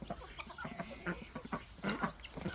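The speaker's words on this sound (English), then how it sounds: "Oh, that's the rooster." Chickens on a farm with rooster, hens and other fowl nearby, giving repeated clucks and short crowing calls at moderate distance in a busy, uneven barnyard chorus.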